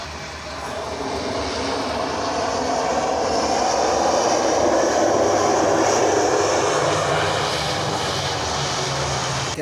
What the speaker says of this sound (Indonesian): Pesawat di atas gedung.